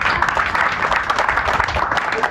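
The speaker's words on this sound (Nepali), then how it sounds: "ताली बजाउ अन्तिम ताली" An audience clapping at a Nepali Christian gajal performance, a dense continuous wash of applause from a crowd for a couple of seconds, with voices blended in.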